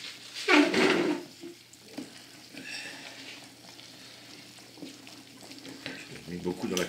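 Spoon scraping and stirring sugar in a saucepan with the heat off, soft irregular scratches with a louder clatter near the start and faint voice sounds in between.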